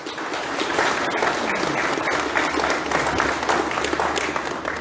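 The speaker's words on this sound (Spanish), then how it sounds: "Lo recibimos con fuertes aplausos." A crowd at a municipal ceremony applauds warmly, with dense, steady clapping of even loudness throughout, heard close and without speech.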